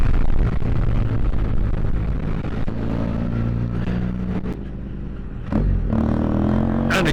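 A big 800cc adventure motorcycle ridden on the Cherokee Challenge rally, its engine a steady loud drone with wind noise throughout and a brief dip and surge near the end.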